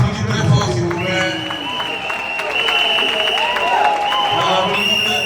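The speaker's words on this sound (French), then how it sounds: "Adrien, star nationale, on applaudit très fort s'il vous plaît." Crowd applauding a national star at a live event in Yamoussoukro, with steady clapping and cheering mixed under music and a voice talking over the noise.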